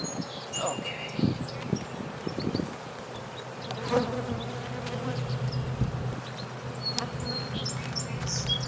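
Honeybees buzz steadily from an opened hive during a May colony split, a dense, continuous drone close by that holds level throughout, with faint bird chirps in the background.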